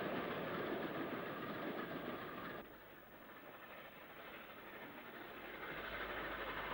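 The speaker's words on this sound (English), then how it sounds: "a northbound Black 5 crosses Bridge 561 and then Bridge 560 over the road towards" A northbound LMS Black 5 steam locomotive hauls a train across a bridge in 1966, a loud, dense rumbling roar that drops slightly partway through and swells again, with no voices.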